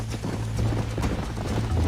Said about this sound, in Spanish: Es que es complicado, controlar el puto caballo.